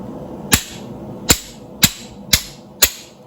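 A hammer strikes a blacksmith's chisel cutting into metal, five sharp, ringing blows evenly spaced and close up, with no talk.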